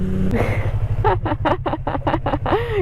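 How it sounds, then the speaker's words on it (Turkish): Yamaha MT-09 motorcycle engine while riding on the road, a steady low drone under a rhythmic series of short bursts, close and loud, with brief talk at the start. "Kanka şu an benim motorun sesi duyuluyor sonunda"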